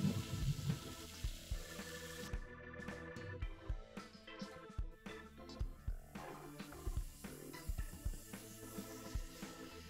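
Baking soda and vinegar fizz with steady crackling bubbles, a busy, sizzling texture that continues throughout, close and fairly quiet.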